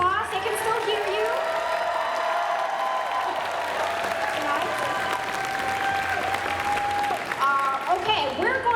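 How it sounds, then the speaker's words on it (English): Sustained audience applause at a Friday night costume contest, steady clapping from a large crowd with cheers over a dense hum of voices, lasting several seconds after the novice entrants finish. "Please give a round of applause"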